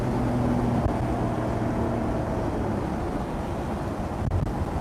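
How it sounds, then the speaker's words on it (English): A 2022 Porsche 911 Targa 4 GTS on the move, its turbocharged engine humming steadily under heavy wind and road rush inside the cabin, with a faint tonal drone that fades slightly toward the end. "I think you can hear those turbos really well."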